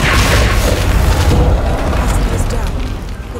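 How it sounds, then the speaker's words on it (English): A loud boom from an explosion in the Hitman 2 video game, a sustained rumbling blast that fills the clip and slowly fades, with game dialogue around it. "Internal climate control and explode."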